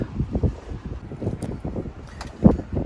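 Gusting wind buffets a microphone aboard a sailboat anchored at sea in a 20-knot breeze, heavy low rumbles rising and falling in uneven bursts, with one sharper gust near the end.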